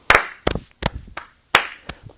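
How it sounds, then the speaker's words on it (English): Sharp hand claps in a steady, uneven rhythm pattern, about six claps over two seconds, close and crisp with no voices, from a fourth-grade music rhythm exercise. "watch for that clap if you need help"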